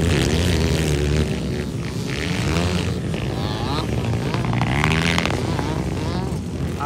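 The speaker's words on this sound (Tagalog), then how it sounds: "Agay ang motor ni Eloy, sigirag purot-purot." An enduro motorcycle at a local race in Bukidnon revs loudly and close, a buzzing, throbbing engine note rising and falling continuously, with someone talking over it.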